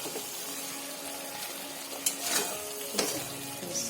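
Flat beans frying with spices in a pan give a soft, continuous sizzle close by, broken by a few sharper crackles and stirring scrapes.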